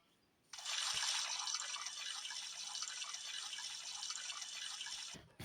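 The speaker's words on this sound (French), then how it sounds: "je vais prendre ma douche" A home shower starts abruptly and runs as a steady, close hiss of falling water for several seconds before cutting off.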